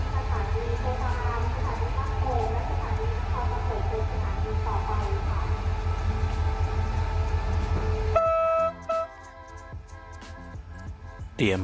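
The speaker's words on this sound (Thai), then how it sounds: "เตรียมเคลื่อนขบวนออกแล้วนะครับกับขบวนรถเร็วที่ 170ต้นทางยะลาปลายทางสถานีกลางกรุงเทพอภิวัฒน์นะครับ" Thai express train 170, running from Yala to Krung Thep Aphiwat Central Station, pulls out of Ratchaburi railway station with a steady heavy rumble. Voices carry over it, and a few tonal horn-like notes sound near the end.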